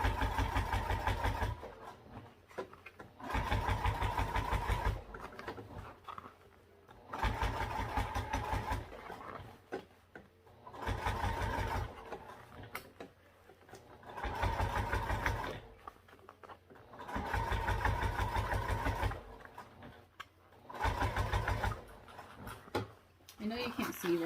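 A sewing machine stitching a quarter-inch seam allowance, running in steady motor bursts of a few seconds each with brief pauses between them, fairly close and quiet, with a person talking during the pauses.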